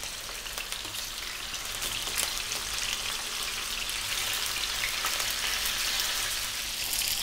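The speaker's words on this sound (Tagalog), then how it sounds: "nadidinig naman ninyo yung tunog ng ating pagpiprito" Steady, loud sizzling and crackling of tuna steaks frying in hot oil, continuous throughout with no talking.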